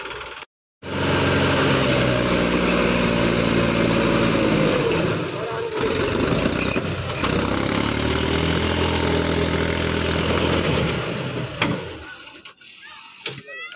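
A Mahindra 295 tractor engine runs loud and close for most of the stretch, labouring under load with uneven surges before fading out near the end, while people talk over it.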